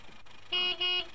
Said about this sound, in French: Voilà, là on entend bien le klaxon.